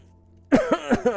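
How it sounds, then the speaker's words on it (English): A person coughs four times in quick succession, close and fairly loud after a brief quiet moment, with no talking. "Somehow I'm coughing up a storm now."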